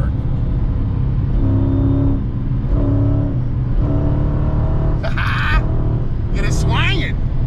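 A Dodge Challenger Scat Pack's engine drones loudly and steadily as the car pulls, with rising and falling rev tones, and a couple of short higher-pitched squeals near the end; a voice talks over the sound.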